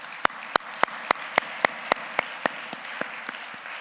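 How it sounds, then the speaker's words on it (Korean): Congregation in a church service gives a round of applause, heard as evenly spaced loud claps in a steady rhythm with a diffuse crowd wash underneath, no talking. "참 부모님께 감사의 박수 한번 올려드리겠습니다."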